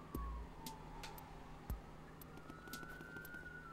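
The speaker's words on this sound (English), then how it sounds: "Let me wait for these sirens to go by." Emergency sirens pass by in the distance, a rising and falling wail that holds steady at moderate volume across the whole stretch, with a short thump near the start and no talking.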